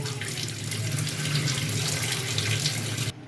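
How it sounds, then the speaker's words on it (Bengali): Running tap water pours steadily while rice is washed, a close, loud continuous splashing hiss that cuts off abruptly near the end. "এখন চাল ধুয়ে নিলাম"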